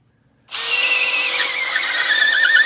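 A power drill starts abruptly and then whines steadily and loudly while driving a timber screw into a timber frame joint, close by, with no voices.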